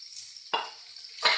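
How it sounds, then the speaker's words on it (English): Tomatoes sizzle and hiss in masala in a pan, with two clear scraping stirs of a spatula cutting through the steady frying crackle. "I'll be nicely stir frying this."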